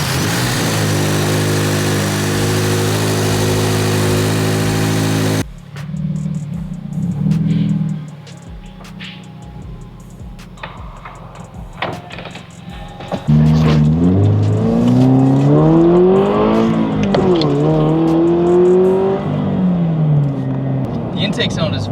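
A car engine fitted with an MST V2 aftermarket intake starts and idles, then revs up and down with a loud throaty intake sound as the car drives off, with people talking over it.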